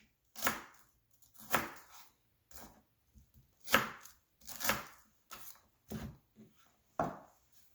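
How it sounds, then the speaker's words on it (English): A knife finely chops cabbage chunks on a cutting board, giving about ten sharp, separate thuds at an uneven pace, close and clear against near silence. "all we're going to do is chop them finely so we can use it with the rest of the cabbage"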